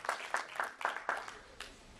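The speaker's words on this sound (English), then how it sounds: "please give them a welcome applause if you don't mind." A few spaced, moderately close claps ring out at an irregular pace, a small welcoming applause for twins at a teen leadership gathering.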